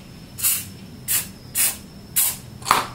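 Five short, sharp bursts of spray paint hit a glove being coloured red, each hiss evenly spaced and close, with quiet pauses between them.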